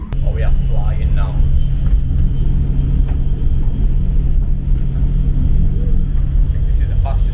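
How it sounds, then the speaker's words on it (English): Interior of the Al-Boraq high-speed train running at speed between Tangier and Casablanca, a steady loud low rumble and hum throughout with faint voices in the background. "I think this is the fastest train I've ever been on."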